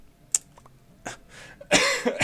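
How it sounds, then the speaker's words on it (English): A few short, quiet coughs and throat-clearing bursts, close by, separated by pauses, the last ones louder and rougher. "I say as I start coughing"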